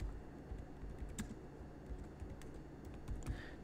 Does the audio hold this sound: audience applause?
no